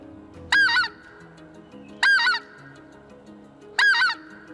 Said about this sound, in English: to blow this call, you want to choke the end of the call down, the exhaust barrel down, to produce that yodeling sound